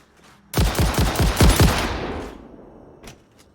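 A rapid burst of about eight loud gunshots from a gun in the video game Satisfactory, fired in quick succession, then a fading tail and a couple of faint clicks.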